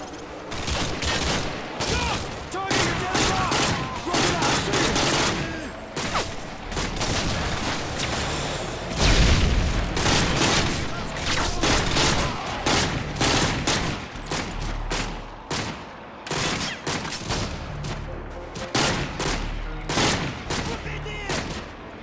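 Dense, continuous gunfire from Call of Duty: Modern Warfare 2, rapid automatic bursts and overlapping shots with occasional heavier booms, loud and close throughout.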